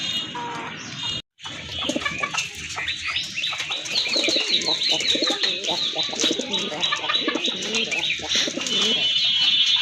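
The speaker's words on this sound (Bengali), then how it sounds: "মাশাল্লাহ আরেক জোড়া কবুতর দেখতে পাচ্ছেন, এটা হচ্ছে আপনার রেড কালারের ভিতরে এক জোড়া বড় পায়রা কবুতর।" Large red pigeons at a pigeon farm coo steadily and close by, with bird chirps and a brief flap of wings, and no talking over them.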